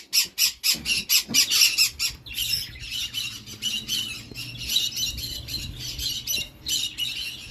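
Conures squawk in rapid, harsh, repeated calls, loud and close, continuing in an uneven chorus throughout.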